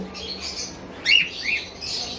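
Caged birds offered for sale give a few faint high chirps and tweets, with a brief brighter call partway through over a low steady background hum.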